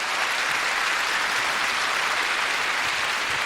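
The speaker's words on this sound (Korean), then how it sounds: "여러분 큰 박수 부탁드립니다" Sustained audience applause in a concert hall at the close of a classical radio concert of French music, steady and dense throughout with no talk.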